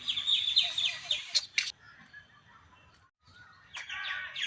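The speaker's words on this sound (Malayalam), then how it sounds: "ശ്രദ്ധിച്ച് നമുക്ക് കേൾക്കാം പക്ഷികളുടെ മനോഹരമായ ശബ്ദങ്ങൾ." Birds sing in Cubbon Park, Bengaluru, a garden in the city centre full of trees: bright, rapid chirps and warbles fill the opening, fade into a brief lull, then return near the end.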